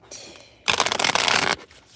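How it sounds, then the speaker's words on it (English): A deck of tarot cards is shuffled close by in one loud, rapid riffling burst lasting under a second, with quiet before and after. "I'ma shuffle these cards up and we gonna get right into it."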